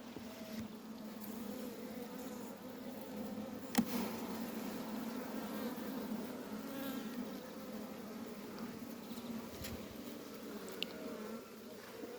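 Honey bees swarm and hum steadily around an open hive during a beekeeper's inspection of frames, a close, continuous buzzing drone with individual insects passing near, no talking.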